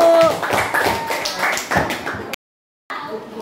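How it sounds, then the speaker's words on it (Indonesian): Students in a school classroom clap for a classmate, a run of quick, fairly close handclaps with voices mixed in, ending in sudden silence and then faint room noise. "Tepuk tangan buat Boru."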